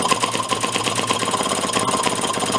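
A Maytag 92 hit-and-miss engine fitted with a muffler runs close by, its rapid, even chuffing firing strokes ticking along in a steady mechanical rhythm with no voices.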